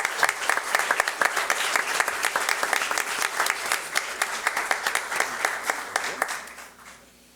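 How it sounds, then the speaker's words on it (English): A school board meeting crowd gives a big round of applause as student athletes from Weslaco High School enter the room. Dense, sustained clapping fills the room for several seconds, then thins and fades out at the end. "How about a big round of applause as they enter the room?"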